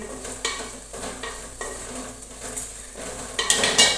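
Potatoes and onion frying in oil in a pan for a potato-and-poha dish, stirred steadily with a spoon: a constant close sizzle with repeated scraping sweeps and light metallic clinks, growing brighter and louder toward the end.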